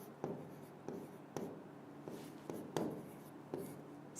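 Marker or chalk writing a word on a classroom board, a series of short scratchy strokes and taps in an uneven rhythm, close and fairly quiet, with no talking.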